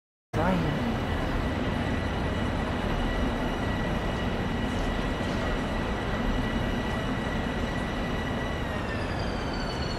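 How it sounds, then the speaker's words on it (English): A train pulls in within the Train Sim World 2020 video game, producing a loud, steady rumble and hiss of wheels and carriages. It starts abruptly and holds at a constant level throughout, with a faint high whine sliding near the end. "And here comes my train."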